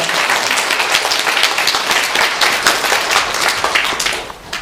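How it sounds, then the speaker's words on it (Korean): A church congregation applauding during a Sunday worship service, loud sustained applause from many hands filling the whole span, close and dense with no break. "박수로 격려하겠습니다."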